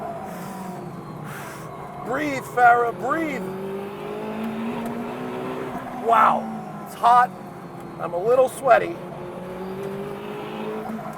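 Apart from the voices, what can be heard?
Czinger 21C hypercar on track, braking and downshifting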